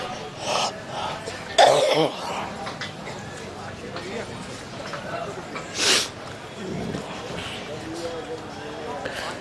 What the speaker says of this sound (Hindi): वो खांसी 2 मिनट की होती है